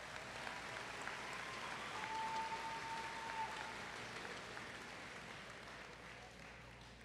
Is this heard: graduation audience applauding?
yes